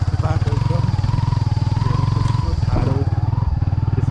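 A motorcycle engine labours up a steep two-lane mountain road, a steady near throbbing drone with rhythmic pulsing and occasional rattles, a voice speaking over it.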